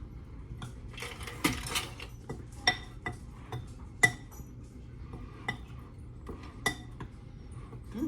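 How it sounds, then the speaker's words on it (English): Cinnamon and spices being stirred together in a bowl for a maple popcorn chicken recipe, scattered light clinks and taps of a utensil against the bowl over a quiet background, close up with no talking. "You're just going to stir that together."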